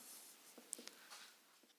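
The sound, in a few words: writing on a board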